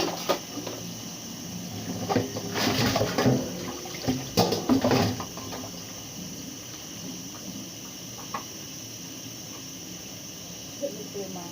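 Water pours into a cooking pot for soup, a splashing rush for a few seconds over a steady kitchen hum, followed by light clinks and quieter background noise.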